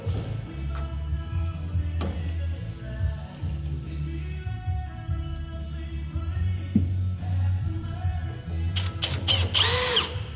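A power drill bores a hole for a rivet nut while traction bars are fitted to a Dodge Ram Cummins pickup, a close steady whirring drone with small taps and a brief higher squeal at the end.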